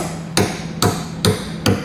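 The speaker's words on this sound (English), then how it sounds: "So we're just knocking it up with our hammer." Four evenly spaced, sharp metallic hammer strikes bend a center metal tab flush against the bumper beam of a 2019 Subaru Outback Wagon during a trailer hitch installation. The blows are close and loud, with no talking.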